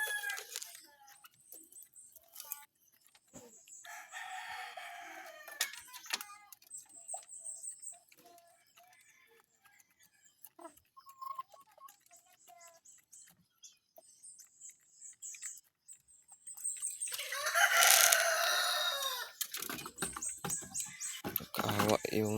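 Captive red junglefowl (labuyo), one of them sick, cluck softly and sporadically, with scattered rustling and patter; a loud crow rises near the end, and someone speaks between the calls.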